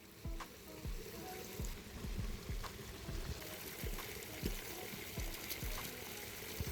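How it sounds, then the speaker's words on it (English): Yotei spring water runs from a public spring in a snowy Hokkaido park, a steady splashing trickle with close, irregular drips and plops, no talking. "This is the Yotei spring water."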